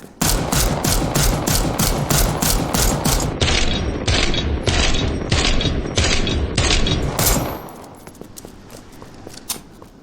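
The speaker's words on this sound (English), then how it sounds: "it basically fires like any other handgun we've seen prior" Repeated handgun shots from the GL7 pistol in the video game Resident Evil Re:Verse, a steady rapid series of sharp loud reports with mechanical clacks for about seven seconds, then quiet with a few faint clicks.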